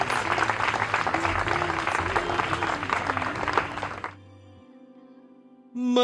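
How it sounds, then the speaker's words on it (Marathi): Guests at a wedding ceremony clapping over loud background music for about four seconds, after which the applause stops and only faint music lingers, with a brief swell at the end. "जोरदार टाळ्या वाजवा"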